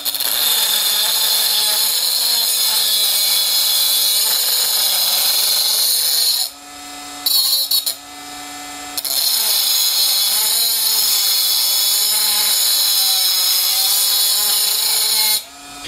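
A Bosch 12V cordless angle grinder cutting through a thin round steel bar, loud sustained whining hiss of the disc grinding metal, briefly dropping and revving back up midway before the cut finishes.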